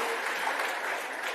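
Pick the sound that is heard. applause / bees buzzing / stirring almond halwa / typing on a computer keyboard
applause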